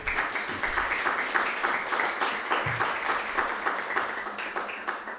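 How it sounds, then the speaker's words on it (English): Steady applause from a large audience at the LSE Africa Summit 2023, honouring the summit organising team, with dense, continuous clapping that holds at an even level throughout. "let's just give them a round of applause."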